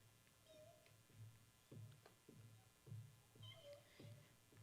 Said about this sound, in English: Oh my goodness, it's 8 little kittens.